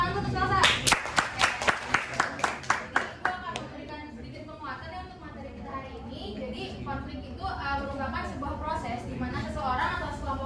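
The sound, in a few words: classroom students clapping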